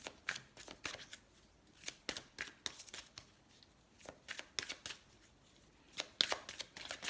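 A deck of cards is shuffled close by in a quiet room, and a card is drawn: a steady run of crisp, snapping riffles and flicks.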